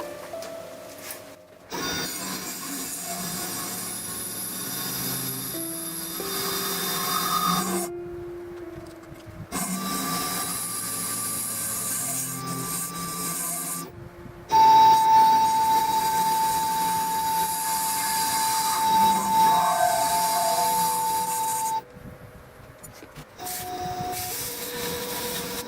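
Machining passes cut a Vespa clutch plate, a steady tonal whine and grinding rasp running in several long stretches broken by short pauses, heard close with no talk.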